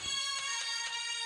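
A phone rings with a steady electronic ringtone melody, moderately loud and close, repeating in short pulses with no talking over it.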